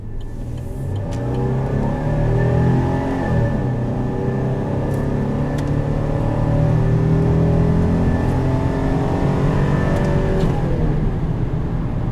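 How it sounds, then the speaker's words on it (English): A 2020 Chevrolet Silverado 1500 Custom V6 pickup engine revs and accelerates loudly and continuously, its tone rising and holding strong for several seconds without any talk. "And this 6-cylinder sounds awesome."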